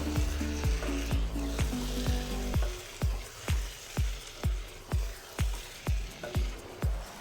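Chicken biryani masala with butter stirred in a hot pan, a constant sizzle broken by about a dozen evenly spaced spoon strikes against the pan in a steady rhythm, close and clear with no talk.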